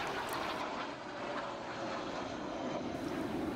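Aircraft fly over at an airfield air show with aerobatics and formation flypasts, a continuous loud engine roar that swells and holds steady throughout, no voices.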